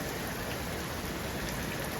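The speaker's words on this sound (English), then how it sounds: "It's now bouncing with hail" Hail and rain fall outside in a dense, steady hiss of pattering drops that holds constant throughout, with no voices.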